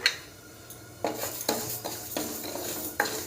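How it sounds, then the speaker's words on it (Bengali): Mung dal frying in a pan as a utensil stirs and scrapes it, giving several distinct metallic clinks and scrapes at irregular intervals over a low, soft sizzle, close up and without talking. "মুগ ডালটা কিন্তু ভালোভাবেই ভাজা ভাজা হয়ে গেছে"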